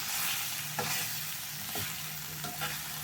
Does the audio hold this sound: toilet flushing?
no